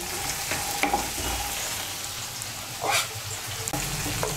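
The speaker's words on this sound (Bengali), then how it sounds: "এই দেখুন বড়িগুলোকে লাল করে ভেজে নিয়েছি" Lentil dumplings (bori) fry in oil in a pan with a steady, even sizzle, marked by a few brief clinks and stirring scrapes.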